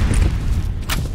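A grenade thumps and detonates in F.E.A.R. Combat, a short, heavy low boom with rumbling gunfire texture and a hissing burst near the end.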